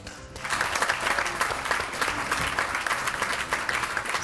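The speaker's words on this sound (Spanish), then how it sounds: "¡Un aplauso!" Studio audience on a Spanish daytime TV show breaks into sustained, dense applause that starts abruptly and fills the room evenly, loud and steady throughout without talk.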